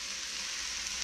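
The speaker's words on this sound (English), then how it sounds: "we're going to add the onions to the hot oil. And we'll just saute them a little" Onions sautéing in hot oil, a steady, even hiss of frying that holds at a low, constant level for about a second, with no talk over it.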